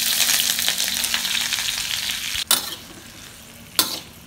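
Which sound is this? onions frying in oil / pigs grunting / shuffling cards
onions frying in oil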